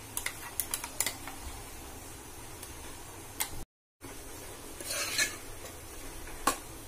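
Koottukari with ground coconut stirred in a pot for an Onam sadya-style dish, with scattered scraping clicks of a spoon against the metal, a short gap, then a busier burst of stirring, with no talking.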